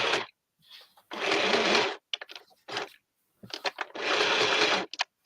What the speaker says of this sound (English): Now I can sew tags and everything.